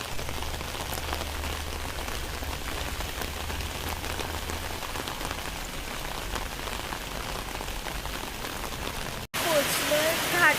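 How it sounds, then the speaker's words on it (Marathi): Heavy rain pounds steadily and loudly on a surface, a dense unbroken hiss of drops with a low rumble beneath, briefly cut near the end before resuming just as strong. "आता थोडा कमी झाला आहे पाऊस"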